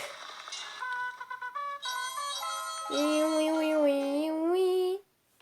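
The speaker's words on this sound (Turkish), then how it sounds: "Böyle bir ses çıkıyor kazandığınızda da." A bright, rising electronic victory jingle from the game Stick War Legacy plays a quick sequence of chiming notes, then a sustained triumphant chord before cutting off abruptly.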